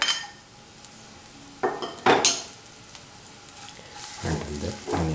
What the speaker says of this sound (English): Put in the onions, garlic and ginger